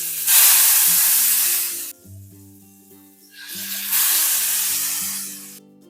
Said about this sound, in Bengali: প্রথমে আমরা মাছগুলো ভেজে নেব।